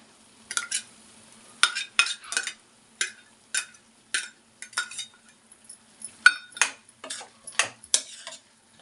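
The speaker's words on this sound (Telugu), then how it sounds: "ఈ మసాలా పచ్చివాసన పోయేంత వరకు మనం వేపించుకుందాం" A spoon scrapes and clinks against a pan as ground masala for prawn curry is stirred, giving a run of sharp, close metallic strokes in an uneven rhythm over a faint low sizzle.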